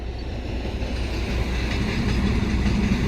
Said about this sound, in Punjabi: ਇੱਧਰ ਆ ਗਈ ਟ੍ਰੇਨ ਦੇਖੋ